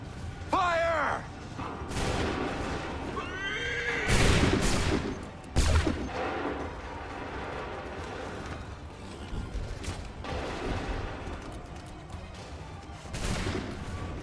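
Musket volleys crack out in Assassin's Creed III, several loud ragged bursts of gunfire spread across the scene, mixed with shouted voices and battle noise.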